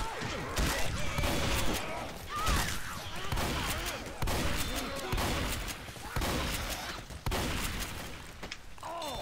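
Rapid, loud shotgun blasts and heavy gunfire from the zombie shooter game Left 4 Dead 2 pound through a dense, chaotic firefight, with voices talking over the shooting.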